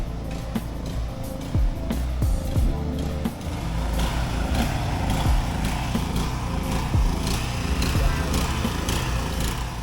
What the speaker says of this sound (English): I can hear some kind of engine running, some kind of generator or pump of some kind.